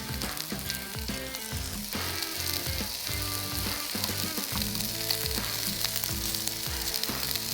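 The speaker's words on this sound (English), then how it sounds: "we're pretty hot in that pan, so let's go ahead and put our bacon in" Home-smoked pork belly bacon sizzles in a hot, oil-free pan, a loud, constant crackle and spit that fills the whole stretch with no talking.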